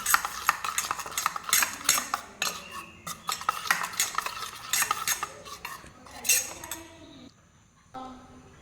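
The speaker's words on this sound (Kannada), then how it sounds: "ಚಂದ ಮಾಡಿ ಮಿಕ್ಸ್ ಮಾಡ್ಕೋತಾ ಇದ್ದೀನಿ." Sour buttermilk being stirred with salt in a metal vessel for uddu menthya tambuli, giving repeated scraping clinks of a spoon in an irregular rhythm, close and clear with no talk.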